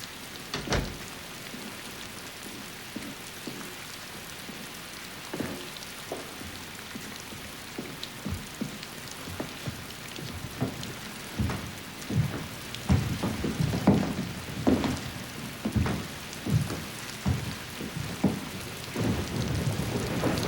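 Steady rain falls throughout with several thunder rumbles and cracks, growing heavier and more intense in the second half, with no talking.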